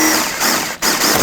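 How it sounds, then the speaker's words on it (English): A power drill whirs at close range for about a second, briefly dipping before spinning back up, as it drills out the center of a plastic rivet on a 2001-2007 Volvo V70, with no voices. "I'm going to take a drill bit and drill out the center."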